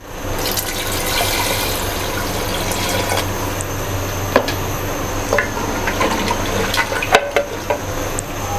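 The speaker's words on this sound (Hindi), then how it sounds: "पानी डालेंगे।" Water poured into mutton being fried in a pan for Chinioti kunna, a steady broadband rush and gurgle with sizzling underneath, continuous for several seconds with a few brief clinks near the end.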